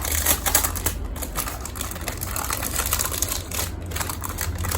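A clear plastic makeup organizer is handled and opened up close, making a busy stream of crackling, clicking plastic rattles with uneven bursts and no voices.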